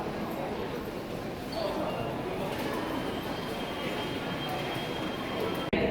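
Hanshin line train platform in an Osaka station: a steady low rumble of rail ambience with faint background activity and a sharp click near the end.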